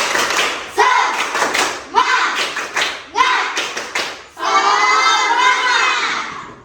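A class of children performs a rhythmic spirit clap in a classroom: three quick bursts of clapping with shouted voices, then a longer sustained cheer, loud and near.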